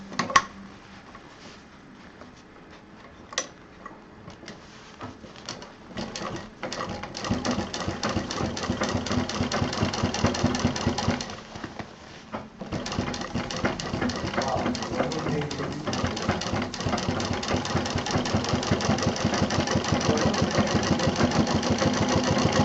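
Sewing machine stitching a college bag, sewing a straight seam: a rapid mechanical stitching chatter that starts and stops in the opening seconds, then runs steadily and loudly, with one brief pause midway.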